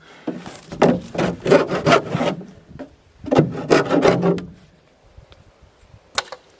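Wood being cut with a handsaw in two rhythmic bursts of rasping back-and-forth strokes, close and fairly loud, followed by a short quiet pause and a final scrape.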